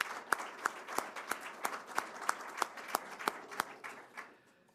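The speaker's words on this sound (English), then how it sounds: "So give yourselves a round of applause for a job well done." An audience claps in a steady round of applause for a charity golf event, distinct near hand claps in a regular rhythm that thin out and fade at the end, with no talk.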